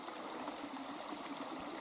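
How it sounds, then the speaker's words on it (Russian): Meltwater streams from melting snow trickle and babble steadily at a low, distant level, a soft continuous wash of running water with no voices. "Ручьи в полсилу текут. Журчат, да."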